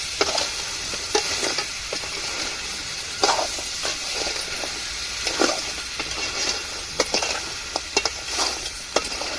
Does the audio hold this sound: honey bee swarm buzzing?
no